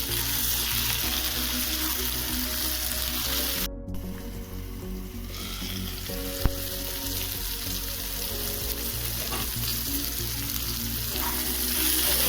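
Potatoes, flat beans and onion frying in a pan, with a dense, continuous sizzle close by and a single sharp clink partway through.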